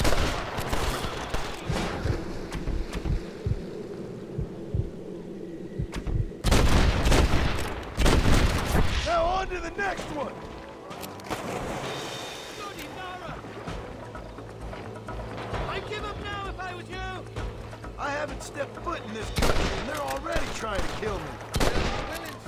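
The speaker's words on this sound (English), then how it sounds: "I shot him in the knee" Gunfire in the Red Dead Redemption video game on Xbox One, with a loud burst of shots and booms mid-clip and scattered further shots amid battle noise, under game voices and talk.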